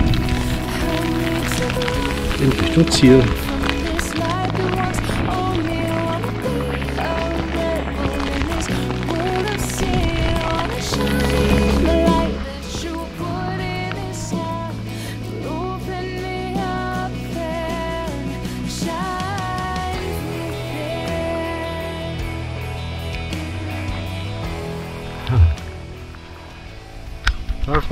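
A heavy rain shower pattering steadily on a surface close by at Ottenstein Reservoir in April, mixed with wind rumble and music, and a short spoken phrase.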